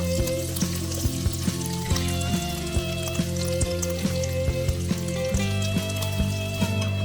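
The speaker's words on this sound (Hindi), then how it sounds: "ये देखिए, खोए को अच्छी तरह से भून लूंगी मैं कि ये बिल्कुल हलवा सा बन जाए।" Khoya roasting in lukewarm ghee in a pan for carrot halwa, a steady close sizzle with repeated scraping and stirring knocks throughout, no talking.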